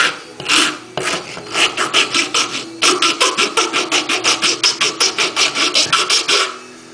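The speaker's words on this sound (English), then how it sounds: "Then take you a wood rasp or wood file." A wood rasp files a wooden car body in steady, even back-and-forth strokes, close and loud, with a few slower strokes first and then a long regular series.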